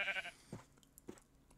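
A Minecraft sheep gives a short bleat, faint and brief, followed by a few soft in-game clicks.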